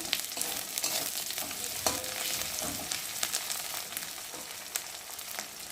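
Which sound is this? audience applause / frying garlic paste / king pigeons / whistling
frying garlic paste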